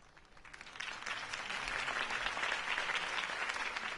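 In the Batman Telltale game, a crowd applauds after Harvey Dent's campaign speech, a steady wash of clapping that swells within the first second and holds at a fairly quiet, distant level.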